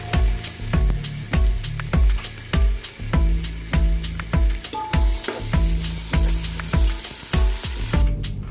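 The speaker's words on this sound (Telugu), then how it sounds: "బాగా గోల్డెన్ కలర్లోకి వచ్చిన ఆనియన్లోకి 2 టేబుల్ స్పూన్ల అల్లం వెల్లుల్లి పేస్ట్ వేసుకోవాలి." Two tablespoons of ginger garlic paste fry with golden onions for chicken biryani, sizzling loudly up close while a spoon stirs and scrapes the pan in quick repeated strokes, no voices.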